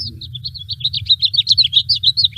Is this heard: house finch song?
yes